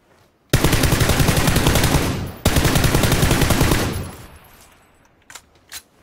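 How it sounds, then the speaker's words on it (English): Automatic weapons fire in a video game shooter: two long, loud bursts of rapid machine-gun shots, split by a brief break. They are followed by fading echoes and a couple of distant single shots. "Yep, they're shooting at me."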